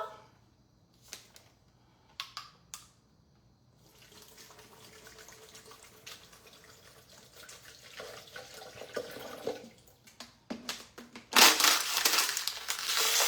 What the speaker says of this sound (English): So now we're gonna add our water.